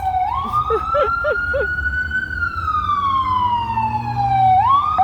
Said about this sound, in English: Yes, it's Brooklyn. It's always sirens.